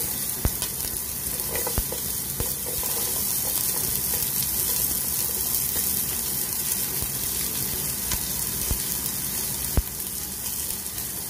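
Onion frying in hot oil for ginataang hipon, a Filipino coconut shrimp dish, making a steady, close sizzle with occasional sharp pops and light stirring clicks throughout.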